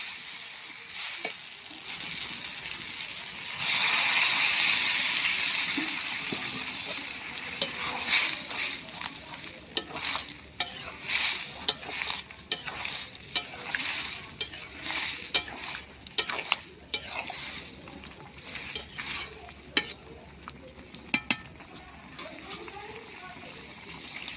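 Vegetables stick and fry in a pan as water goes in, a hiss that swells early then gives way to steady sizzling with stirring scrapes and light clinks of utensils, a voice talking quietly underneath.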